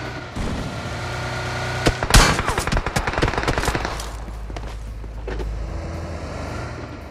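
Gunfire in the mobile battle-royale game PUBG Mobile: a loud cluster of rapid shots around the middle, trailing into scattered reports over steady in-game background noise.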